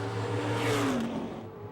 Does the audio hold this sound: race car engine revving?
yes